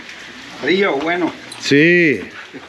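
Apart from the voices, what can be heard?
heavy rain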